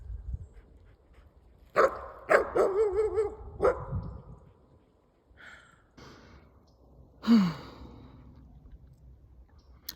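A dog barks several times in a quick cluster, then gives another sharp bark after a pause, with a low rumbling background and no talking.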